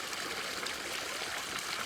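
Warm water flows steadily out of the ground, a continuous close trickling and bubbling stream with no talk over it.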